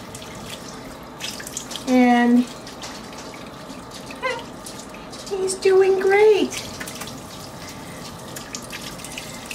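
Lukewarm water runs steadily from a tap into a basin for an Aussiedoodle puppy's bath, with a voice speaking briefly over it and a few squeaky puppy whimpers.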